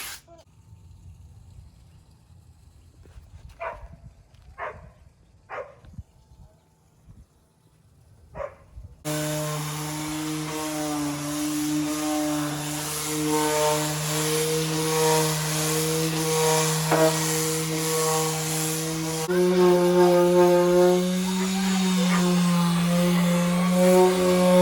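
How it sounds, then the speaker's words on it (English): A power sander strips the old finish off a library cart. Light taps and clicks come first, then the motor starts and holds a loud, steady whining drone to the end. "been sanding it for like 10 seconds and this is how much is already coming up"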